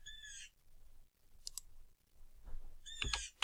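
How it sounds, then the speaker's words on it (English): Birds chirp faintly in the background, with a short burst of calls at the start and another cluster near the end. Quiet gaps lie between them, and no one speaks. "sorry for the birds in the background"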